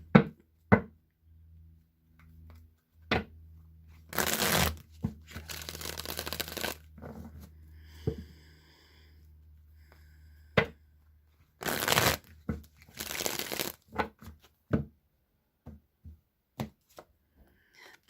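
Rider-Waite tarot cards being shuffled by hand in several loud riffling bursts, separated by quieter handling taps and knocks, close and with no talk.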